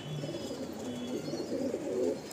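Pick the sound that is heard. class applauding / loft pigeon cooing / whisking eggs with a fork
loft pigeon cooing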